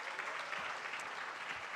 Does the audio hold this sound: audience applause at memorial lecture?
yes